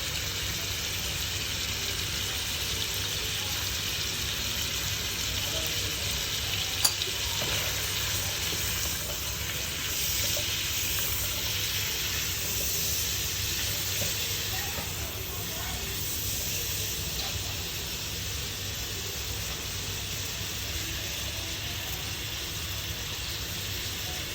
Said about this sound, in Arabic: صافي غادي نخليها نقلى واحد شويه